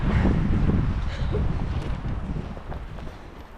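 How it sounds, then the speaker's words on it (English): Strong gusty windstorm on a hilltop buffets the microphone with heavy low rumbling, loudest at first and easing slightly toward the end. "we are in a bit of a storm. A little windstorm"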